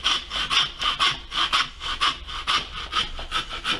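A hand saw cuts through a lamb carcass in a butchery session, giving a steady back-and-forth rasp with about eight close, even strokes. No voices are heard.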